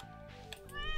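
Cat meowing in the farming video game Stardew Valley Expanded, a single drawn-out, rising meow near the end over steady game music.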